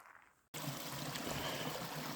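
A small stream at a backcountry water crossing runs steadily, a close, continuous rushing and trickling after a brief quieter moment at the start.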